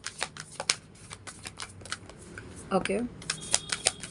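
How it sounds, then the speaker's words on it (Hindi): Large tarot-style cards from a new deck being shuffled, giving a string of quick papery riffles and slaps that runs throughout, with a brief voice heard partway through. "ये बहुत बड़े बड़े कार्ड्स हैं, जो शफल करने में मुझे थोड़ी सी तकलीफ तो हो रही है"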